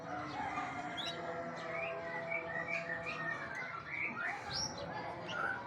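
A white-rumped shama (murai) songbird sings varied whistled phrases and chirps, moderately faint against a steady background hum.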